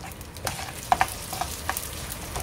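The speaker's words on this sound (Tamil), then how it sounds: "இப்ப நல்லா அது படப்படன்னு வெடிச்சு இந்த வெந்தயம் எல்லாமும் நல்லா பொறிஞ்சு வந்துருத்தோம்" Mustard and fenugreek seeds crackle and pop in hot oil for an amla pickle, scattered sharp spits over a steady sizzle, close up with no voices.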